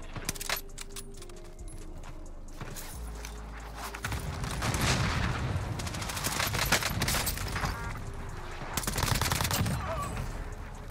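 MP40 submachine gun fire in the Warzone video game comes in rapid, crackling bursts, with sustained volleys of automatic shots that swell and fade across the clip and sharp cracks near the end.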